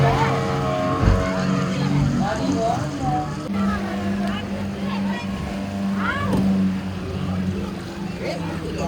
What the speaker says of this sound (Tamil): 40 குதிரை பவர் கொண்ட இந்த படகுகளுக்கான போட்டி சரி இப்போ ஆரம்பமாக போகுது.